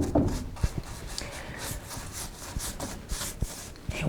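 A stubby pointed brush pressed hard to work chalk paint into the recesses of a carved frieze on bedroom furniture, giving short, rough scrubbing strokes with soft dabs, close and alone.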